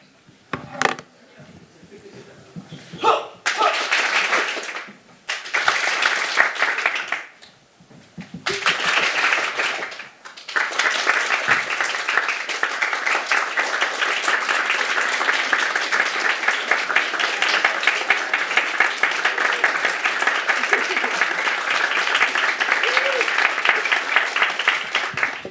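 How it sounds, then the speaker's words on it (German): Science slam audience in Freiburg clapping in repeated bursts that break off and resume, then settle into a long steady round of applause that grows thinner toward the end. "das Klatschen wurde immer weniger und immer weniger"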